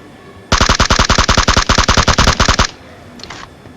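Rapid automatic gunfire from a multiplayer battle royale video game, a loud close burst of about twenty evenly spaced shots lasting two seconds, followed by a faint brief clatter.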